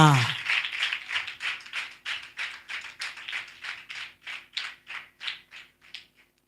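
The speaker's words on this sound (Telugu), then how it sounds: "చప్పట్లు కొట్టు గట్టిగా, చప్పట్లు కొట్టు గట్టిగా" A church congregation claps in unison at a Sunday fasting prayer service, about twenty loud, regular claps in steady rhythm that fade slightly toward the end.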